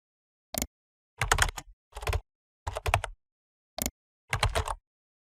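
Typing an email on a computer keyboard: short clusters of clicking keystrokes come in about six separate bursts separated by brief pauses, close and clear with no talking.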